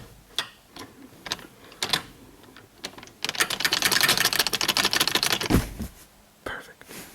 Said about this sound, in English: he's zip tying wires up because we don't need wires down there anymore